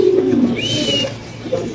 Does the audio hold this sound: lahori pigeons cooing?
yes